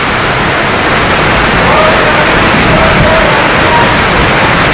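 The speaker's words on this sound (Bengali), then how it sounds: "তো বৃষ্টিটা নামছে প্রায় আধা ঘন্টার উপরে।" Steady rain falls over a village home, a dense, continuous hiss filling the whole stretch at a loud, even level with no pauses or voices.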